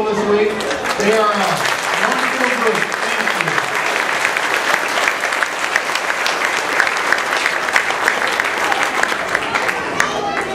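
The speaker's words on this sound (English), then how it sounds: "we want a little bit of a round of applause for everybody who's helped with preschool this week" A dense, steady wave of audience applause fills a Vacation Bible School closing program for the preschool helpers, with a voice speaking briefly over the clapping at the start before the ovation carries on alone.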